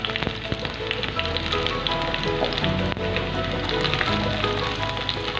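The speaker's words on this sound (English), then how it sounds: "Now add the onions to this." Garlic and onion slices sizzle and crackle steadily in a hot pan, a dense continuous frying hiss with scattered pops, close and fairly loud with no talk.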